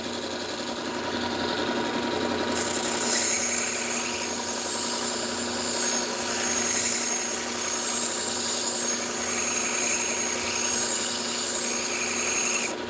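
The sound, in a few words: knife being sharpened on a belt grinder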